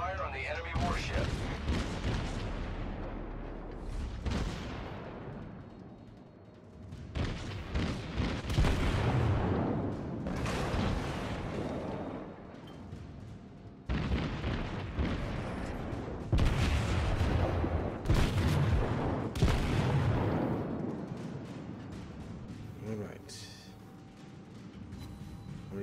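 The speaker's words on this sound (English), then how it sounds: "Concentrate fire on the enemy warship." Guns of the Japanese battleship Kongo in World of Warships fire at an enemy warship in heavy booming salvos that recur every few seconds, with rumbling blasts and a steady engine drone underneath while a player talks.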